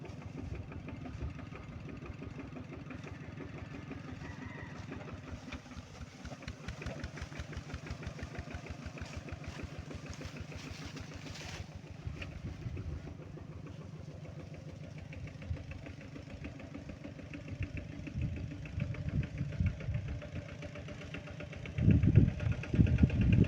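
Vehicle engine started and left idling outdoors, a steady low rumble with a rhythmic mechanical pulse that holds for the whole stretch and grows rougher and louder near the end.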